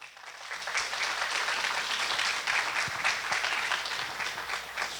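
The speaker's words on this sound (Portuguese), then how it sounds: "Vamos então receber nosso palestrante com uma salva de palmas." Sustained applause from a conference audience welcoming a speaker at a legal and financial meeting on pension reform. Dense, even clapping fills the room for about five seconds and stays steady and fairly loud throughout, with no talking over it.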